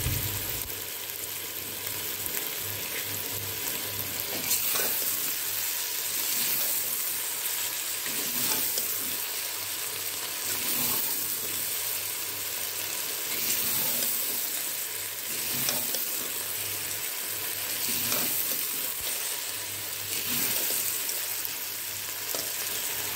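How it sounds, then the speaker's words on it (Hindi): Okra, onion and tomato fry in a pan with a dense, continuous sizzle that holds steady and close for over twenty seconds. Faint stirring scrapes recur now and then, and nobody speaks. "इसको हम अच्छी तरह से फ्राई कर देंगे, भिंडी को, प्याज को, टमाटर वगैरह को,"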